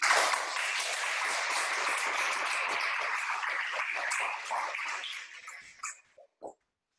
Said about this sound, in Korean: 이 아이들을 축하한다고 박수 한번 하겠습니다